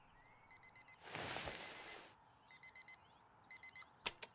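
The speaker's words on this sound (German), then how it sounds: "Machen wir erstmal einen Wecker aus." An alarm clock in the House Flipper 2 video game gives short bursts of rapid electronic beeps in repeated groups, broken by a loud rush of noise in the middle, with no talking.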